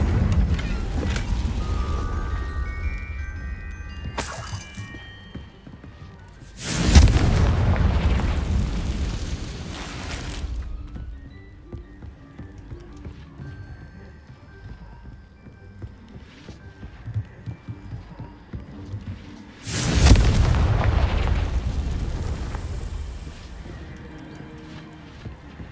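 Confringo fire spells from Hogwarts Legacy explode in loud, roaring bursts, with two big blasts spaced well apart. A crackling, rumbling tail follows each one, and fainter game sounds fill the gaps.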